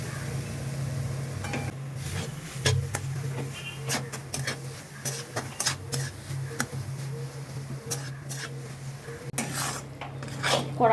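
Grated potato is added and stirred in a metal kadai, with repeated sharp scrapes and clinks of a spoon against the pan over a low steady hum from the stove.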